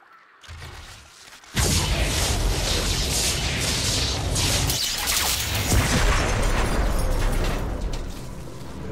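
A massive explosion tears apart the Psymatrix power structure in StarCraft, bursting in loudly after a brief, quieter lead-in and then rumbling and crackling as one sustained, dense roar.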